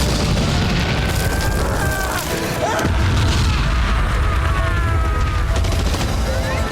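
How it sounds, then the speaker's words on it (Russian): Chaotic battle din around a garrison wall with heavy booming explosive blasts and crashing debris, dense and loud throughout, with shouting voices mixed into the noise. "Чудовищные силы взрыва оглушили даже стрелков гарнизона."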